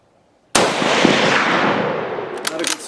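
A rifle shot fired from a standing position, a single sharp loud crack followed by a long decaying rumble, with a few small clicks or knocks near the end.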